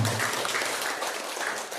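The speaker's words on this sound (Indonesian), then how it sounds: "Tepuk tangan untuk kita semua." Teachers at a morning training session in Bengkulu clap together briefly, a short, moderately faint burst of applause that tapers off quickly.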